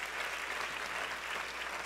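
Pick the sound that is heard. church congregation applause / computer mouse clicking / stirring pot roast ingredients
church congregation applause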